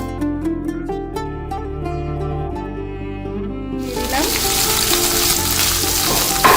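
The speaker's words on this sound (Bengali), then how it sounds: "এবারে আমি এতে গাজর, বিন, ক্যাপসিকাম কুচোনোটা দিয়ে দিচ্ছি।" Chopped carrots, beans and capsicum hit hot oil in a pan, and a loud, steady sizzle starts about midway and carries on. Before that, light clinking and cooking sounds are heard.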